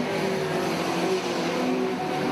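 Granada banger racing cars at Arena Essex with three of them running close together on track, a steady distant engine roar that continues without a break, with some hum at lower pitch.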